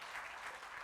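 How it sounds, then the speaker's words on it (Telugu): Brief burst of congregational clapping at a Telugu Sunday church service, a dense, steady wash of many hands applauding together, filling the whole moment. "మరొకసారి చప్పట్లు కొడదాం దేవునికి."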